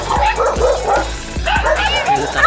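Several dogs bark repeatedly in short sharp bursts, some yipping, fairly close and loud, with someone talking between the barks, on the Dampalit megadike in Malabon City, Philippines.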